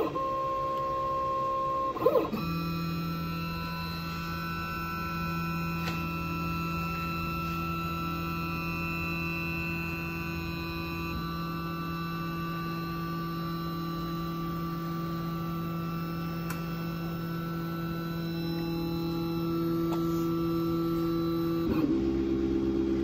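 A Shapeoko CNC router machine initializes and homes, giving off steady layered electronic whines and hums with a few clicks as the motors engage and settle, close and continuous throughout.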